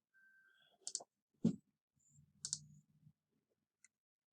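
Computer mouse clicking in a quiet room, with a few sharp, isolated clicks spaced out over several seconds, including a quick pair, plus faint handling noises between them.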